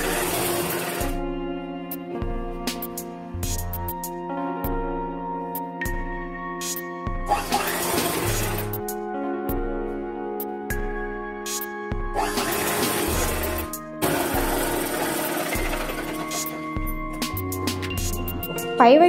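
Sewing machine stitching a cotton summer frock for a child, its motor whirring in repeated runs of stitching broken by short pauses, fairly close, with no talk over it.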